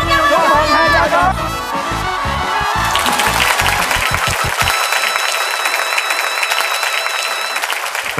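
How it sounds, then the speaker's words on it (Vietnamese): Applause from a theater audience for cải lương artist Kim Tử Long, steady loud clapping that swells and holds with crowd murmur, while a voice speaks over the start. "Một tràng vỗ tay cho nghệ sĩ Kim Tử Long thưa quý vị"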